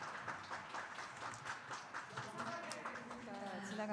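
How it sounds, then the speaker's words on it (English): Audience at the PyeongChang Peace Forum in a hotel grand ballroom gives steady, moderately loud applause, a dense patter of hand claps that continues throughout while a voice speaks over it. "A round of applause, please."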